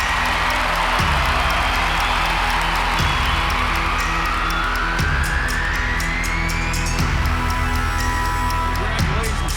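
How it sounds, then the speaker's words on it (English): A huge crowd on a vast stage in a void cheers and roars without pause, a dense wall of noise layered with music and a rising tonal sweep in an animated short. "the fucking crowd goes wild"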